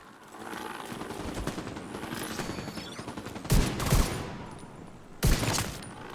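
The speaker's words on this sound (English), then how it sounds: "I hear shots, so it sounds like two factions shooting at each other." Gunfire from rival factions in Tom Clancy's The Division video game, a steady crackle of distant shots under ambient noise, then two loud, close bursts of automatic fire.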